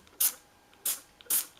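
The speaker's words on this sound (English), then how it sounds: "So let's spray a bit on there" Three short, sharp hissing bursts from a trigger spray bottle of Vanish stain remover applied to white laundry, evenly spaced and close, with quiet pauses between them.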